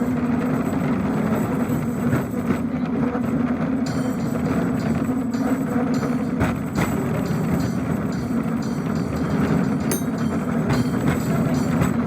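A San Francisco cable car climbs a steep grade with a loud, continuous mechanical rumble and rattle that holds steady throughout, with occasional squeaks and clanks on top.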